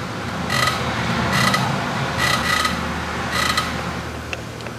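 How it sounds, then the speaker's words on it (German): Brakes on a used Mercedes-AMG creak as the pedal is pressed while the car stands still, four distinct squeaky groans repeating at a steady pace over a low idling hum, close by with no talk. "Guck mal, ich stehe im Stand und ich drücke die Bremse."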